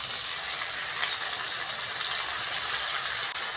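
Cumin paste hitting a hot pan of green chillies and tomato, giving a bright, steady, close sizzle that holds evenly throughout.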